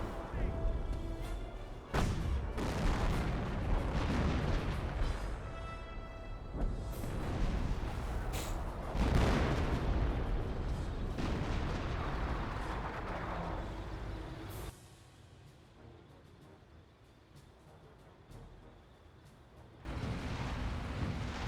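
Half-track barrage artillery in Company of Heroes: dense rumbling blasts and booms roll continuously for most of the stretch, then ease into quieter battlefield noise before another burst near the end, with someone commentating throughout.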